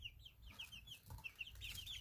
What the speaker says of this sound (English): Listen to our little peep squad.